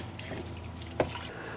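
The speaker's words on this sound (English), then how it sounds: "When it's time to rinse, she just hits the little button on the faucet." Faucet water running into a sink in a yurt, a steady close rush of flowing water with a brief knock partway through, then the flow cutting off near the end.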